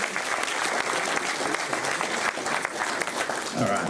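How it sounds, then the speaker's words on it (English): An audience at a school awards ceremony claps steadily throughout, a dense and even burst of applause in a large room. "Please give them a round of applause."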